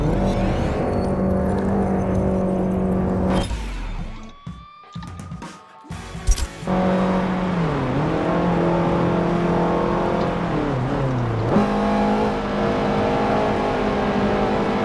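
A Subaru engine on the Nordschleife in Forza Motorsport 7 drones loudly at high revs, cuts out sharply with a brief chaotic break, then revs back up, with pitch dips as it shifts gears.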